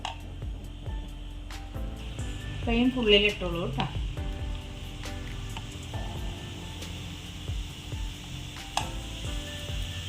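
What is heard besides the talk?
tomatoes frying in a hot pan for pickle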